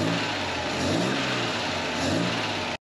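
A 1954 Chevy Bel Air with an upgraded 235 engine and dual carburetors running close by, a loud steady engine roar with slight rises in revs throughout, no voices.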